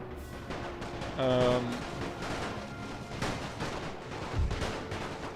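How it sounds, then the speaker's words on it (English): Scattered distant rifle fire trading back and forth across a World War I battlefield in The Great War, during the invasion of Serbia, with irregular cracks under battle ambience, a brief horn-like tone and a low thump near the end. "There's a bit of shooting back and forth."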